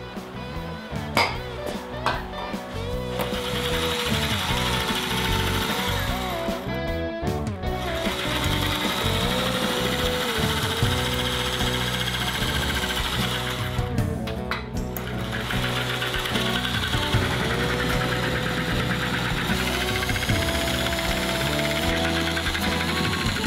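A handheld sheet metal cutter lubricated with WD-40 slices through sheet metal for a radiator shroud, making a loud, continuous whirring, grinding drone with a couple of brief pauses, close by.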